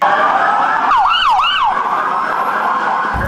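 A wailing ambulance siren at a metro accident scene sweeps up and down a few times over steady, loud traffic rumble, with no one speaking.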